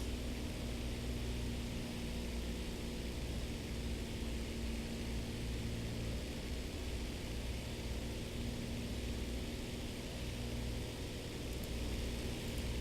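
A Junkers Ju 87 Stuka flies in to land in War Thunder, its engine a steady, dense, unbroken drone with wind rush, heard alone at even loudness throughout.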